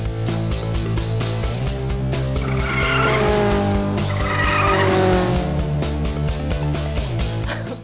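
A toy My Mini race car runs continuously, its motor whine rising and falling in loud sweeping pitch bends over a steady buzzing drone, close and sustained throughout.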